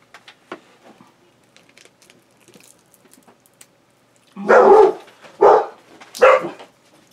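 Three loud, close dog barks in quick succession after several seconds of faint, scattered background noise.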